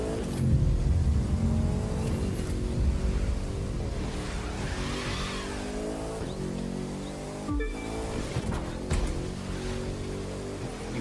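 Racing cars in The Crew 2 roar close by with sustained engine drone and revving gear shifts throughout, steady and loud, with brief whooshes of passing vehicles.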